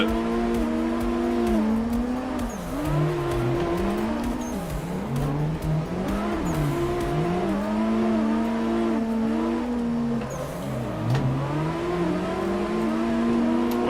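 Drifting race car in the Assetto Corsa racing game, engine note rising and falling steadily as the throttle rolls on and off, with a continuous loud roar and faint tire noise throughout.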